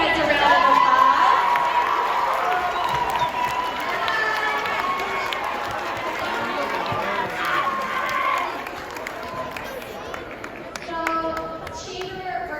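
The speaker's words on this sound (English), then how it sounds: "Let's give these guys a round of applause." A school assembly crowd applauds and cheers for a chamber orchestra, loud and sustained with dense clapping and voices mixed in, fading slightly toward the end.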